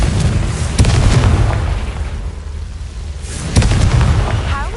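Confringo blasting spells in the Hogwarts Legacy video game go off as two heavy, booming explosions a few seconds apart, each with a rumbling tail that fades before the next.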